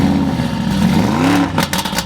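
A loud BMW car engine revs close by, its pitch swelling and falling over a rough idle before a clattering burst near the end, with no talk.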